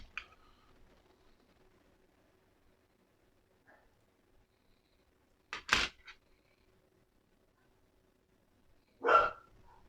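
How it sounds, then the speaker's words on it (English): Dogs barking outdoors at a distance, a few sharp isolated barks separated by long quiet gaps, faint and far off. "Sorry for the dogs barking."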